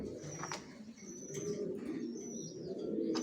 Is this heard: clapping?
no